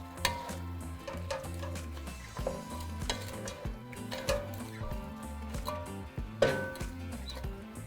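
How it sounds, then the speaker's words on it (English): Potato pieces stirred into browned ground beef in a pot for Mexican caldo de picadillo, giving steady sizzling with scraping and clinking of a utensil against the pot, close and continuous throughout. "Just going to mix it with the meat"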